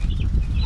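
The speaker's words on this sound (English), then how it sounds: "But we got us some Cornish Cross hens." Cornish Cross hens on a farm give soft, low clucks and murmurs close by, a brief burst of fowl chatter with no talking.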